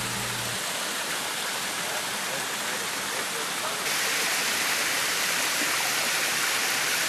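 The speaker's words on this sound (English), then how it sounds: "we come upon our first glimpse of the cascade" Rainforest waterfall cascade in Nicaragua, a continuous broadband rush of falling water that holds steady and grows slightly louder and brighter partway through, with no other sounds standing out.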